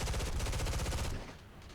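Rapid automatic gunfire from an aircraft gun in the video game War Thunder rattles as a dense, continuous burst, then cuts off abruptly, leaving a quieter background.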